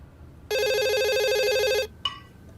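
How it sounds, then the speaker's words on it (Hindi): A telephone rings once in a bright, trilling electronic burst lasting just over a second, close and loud, followed by a short clatter as it is picked up. "ले, फिर आ गया फोन।"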